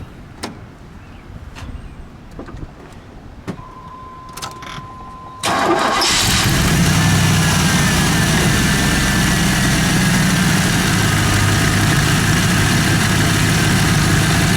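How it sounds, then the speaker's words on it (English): A few faint clicks, then a 1992 Chevrolet Camaro RS police package V8 cranks and roars to life, settling into a loud, deep, steady idle that runs to the end. "let's fire it up, shall we? Let's listen to it."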